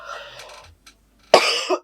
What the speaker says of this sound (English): The more I talk, the worse my cough is.